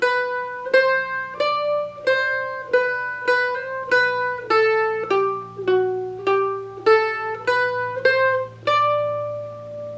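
Mandolin picking the riff, a steady run of bright plucked notes with regular attacks and ringing decays, close and clear with no talking.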